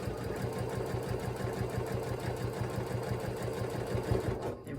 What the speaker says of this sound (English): I like to stitch towards the outside.